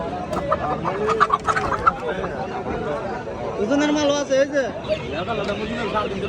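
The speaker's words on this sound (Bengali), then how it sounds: "দেখুন বন্ধুরা ডিম পাড়া মিশরি ফার্মি মুরগি" An Egyptian farm hen clucks after laying an egg at a busy market, its calls rising over loud crowd chatter and nearby voices.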